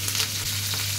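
Dried chilli, cumin, fenugreek, mustard seeds and curry leaves sizzle in hot oil, giving a steady, close crackling fry with no voices over it.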